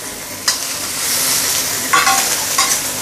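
Fish frying in a smoking-hot wok of oil for a milky fish soup, with a steady loud sizzle broken by a few sharper crackling bursts and stirring sounds.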